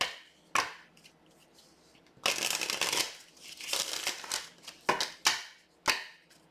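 A Gypsy tarot card deck being shuffled, with close riffling bursts and sharp card snaps and taps coming in irregular clusters with short pauses between them.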